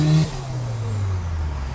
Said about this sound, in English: And what does that sound like when you give it a little bit, Martin?